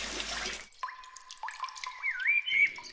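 Cartoon water poured from a waterfall over a small clay pot-shaped house: a short noisy gush, then bright dripping and trickling tones with whistly, bubbling glides, fairly close and clear with no talk.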